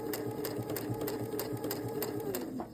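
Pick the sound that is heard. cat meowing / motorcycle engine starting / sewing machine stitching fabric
sewing machine stitching fabric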